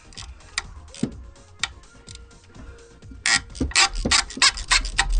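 A ratchet wrench works glow plugs loose on an Isuzu D-Max engine, giving sparse single clicks at first and then a quick run of louder, closely spaced ratcheting clicks.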